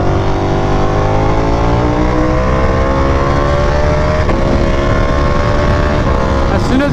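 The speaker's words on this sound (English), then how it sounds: "As soon as you go up in the RPMs on this bike, it just wants to go." Loud, continuous roar of a Ducati Panigale V4R motorcycle on the move, its engine note climbing gradually in pitch as the revs build, with wind noise throughout.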